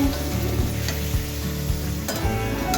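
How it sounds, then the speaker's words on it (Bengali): Mutton sizzles hard in a pan as it is sautéed for kosha with a little water, a dense continuous frying hiss with faint stirring taps, close and loud, no voices. "এইবার কষাটা ভালো করে কষতে হবে যাতে মাংসগুলো একটু ভালো করে"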